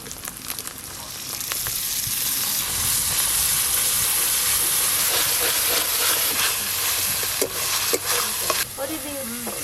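Spices fry in a pan for chana masala, giving a steady loud sizzle and hiss with stirring scrapes as beaten sour yogurt goes in, punctuated by a few sharp clinks.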